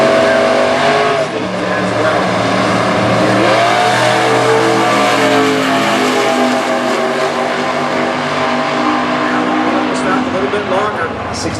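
Door-slammer drag cars, an 85 Camaro and a 63 Corvette Roadster, at a Super Gas drag race, roar loudly and steadily at the line for the whole stretch, their engine tones rising and falling, with an announcer's voice over them.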